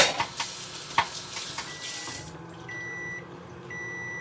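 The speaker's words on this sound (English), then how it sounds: "Oh, we can hear that butter." Butter sizzles on corn on the cob, a close crackling hiss with a few sharp pops that drops off about halfway through and leaves a quieter background with faint electronic beeps.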